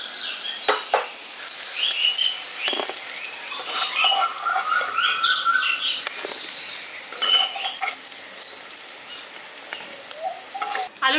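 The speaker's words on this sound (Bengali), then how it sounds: "আলুগুলো এখানে আমি হালকা করে ভেজে নিয়েছি" Potatoes fry in oil in a kadai, giving a continuous crackling sizzle full of sharp pops and spatters that stays steady from start to finish, with no talking.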